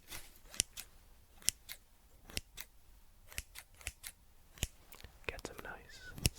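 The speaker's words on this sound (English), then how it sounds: "Get some nice snip, snip, snip, snip, snip sounds." Sharp scissor snips cut open a package in a quiet, close setting, about a dozen crisp clicks in an uneven rhythm, with soft whispering and faint rustling between them.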